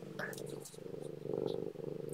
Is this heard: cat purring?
yes